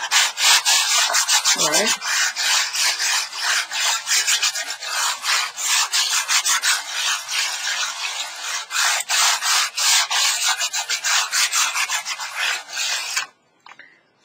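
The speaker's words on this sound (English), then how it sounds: "I've got an 8x10 canvas, and what I want to do is just lightly sand it." Sandpaper lightly rubbing the surface of an 8x10 painting canvas, with close, steady, rhythmic rasping strokes that run continuously before stopping near the end, followed by a single brief spoken word.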